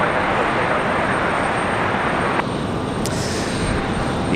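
A Delta airliner taking off from runway 23 right at Raleigh-Durham, a broad steady engine roar that stays loud and constant from a moderate distance, with a brief high tick partway through.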